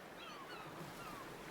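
Gentle waves wash onto a beach in Ys VIII, a soft continuous surf hiss, faint and steady, with no talk.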